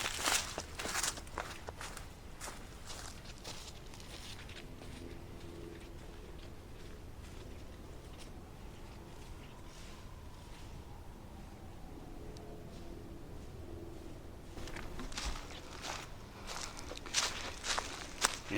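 Footsteps crunch at a steady walking pace along Civil War earthwork breastworks at Fort Duncan, close and distinct, fading softer in the middle before growing louder again.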